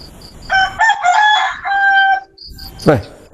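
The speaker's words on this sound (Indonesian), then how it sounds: "Ayam." A rooster crows loudly and close by in one long drawn-out call, with a short squawk following after a pause.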